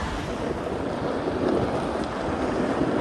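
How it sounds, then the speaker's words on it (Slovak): Steady wind rushes and buffets the microphone outdoors, a continuous broadband roar with no voices. "Asi fučí vietor, že?"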